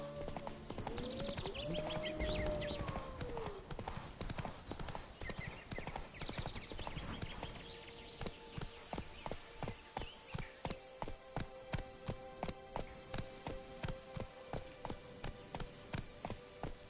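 Roach, a horse in The Witcher 3, trots with steady, evenly spaced hoof clip-clops that come through crisply in the second half, following a busier stretch with a brief whinny-like call.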